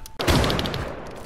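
A single loud, close gunshot in a first-person shooter game, a sharp blast followed by a dense, rumbling tail.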